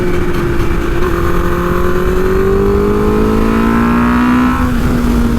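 A Suzuki GSX-R 750 motorcycle at a track day, its engine a loud continuous whine that rises steadily in pitch under acceleration and then steps down as the gear changes, with no voices.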